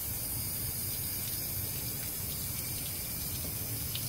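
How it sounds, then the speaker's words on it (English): Steady water rinsing over freshly cleaned teak wood on a 1977 Boston Whaler 21 Outrage boat, a continuous broadband hiss and splash from a hose or tap, moderately close and unbroken, with no talking. "I just like to get a good rinse at the end here"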